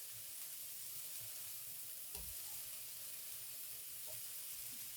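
Burger patties smashed onto a griddle over medium-high heat sizzle in a steady, close hiss of frying that holds for the whole stretch, with a brief scrape or tap partway through.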